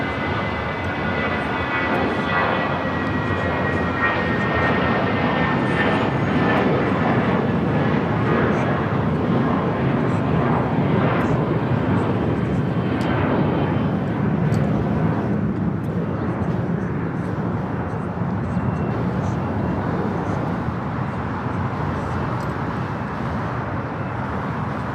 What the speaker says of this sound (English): Again, this A350 coming in from Atlanta, Georgia.